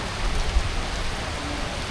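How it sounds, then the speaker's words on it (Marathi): Steady, dense rain hisses without pause at a farmhouse, a broad even wash of falling water with no voices. "पावसाला पण जोर आहे."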